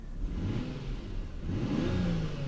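A 1990 Toyota Cresta 2.5GT Turbo JZX81 with a 1JZ-GTE engine revs up, its growl rising in pitch and volume, heard close by with no talking.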